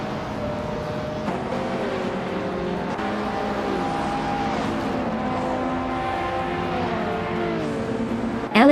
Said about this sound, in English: Ixajax is driving a 1995 REV CTR2, known for its sharp handling and turbocharged power